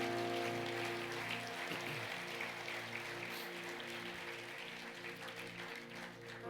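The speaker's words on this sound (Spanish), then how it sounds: "Fuerte aplauso para Dios." Church congregation applause, a faint steady patter of clapping beneath sustained organ or keyboard chords that hold throughout.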